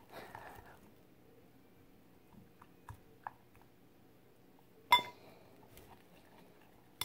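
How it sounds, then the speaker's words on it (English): A slime mixture made with Tide detergent is stirred in a container: quiet, sparse scrapes and light glassy clinks, with one louder clink midway, against near silence. "let's just keep on stirring and stirring"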